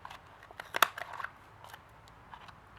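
Scissors snip through paper in a handful of quick, crisp cuts, one sharper than the rest, close by with no talking.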